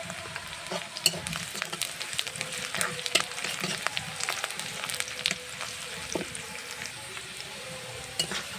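Cumin seeds tossed into onions and green chili frying in mustard oil in a kadai, a continuous close sizzle with busy crackles and repeated scraping stirs throughout.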